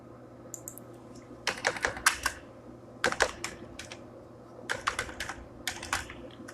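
Typing on a computer keyboard up close, quick bursts of crisp key clicks separated by short pauses, no voices.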